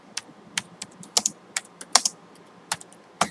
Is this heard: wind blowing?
no